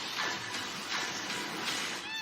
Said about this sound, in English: Oh, lots of cats.